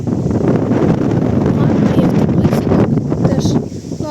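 Steady, loud wind from a severe storm buffeting a microphone, a broad rushing roar that continues throughout with gusty fluctuations.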